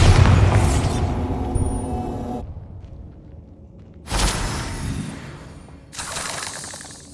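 Bombarda spell detonating in Hogwarts Legacy: a loud, deep blast opens, decays into quiet, then two more sharp bursts follow, with no talk.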